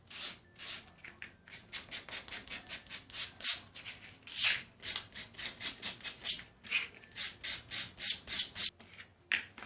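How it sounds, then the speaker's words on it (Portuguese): Sandpaper rubbed by hand along the edges of a rustic decorative MDF plaque, a steady run of quick, close rasping strokes in an even rhythm, alone without talk. "eu posso vir com a lixa com bastante cuidado e dar uma"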